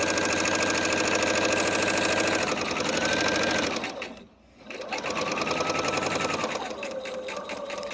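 A sewing machine stitches the seams of small fabric flags, a steady close whirring run that dips into a brief pause partway through and then resumes at full speed.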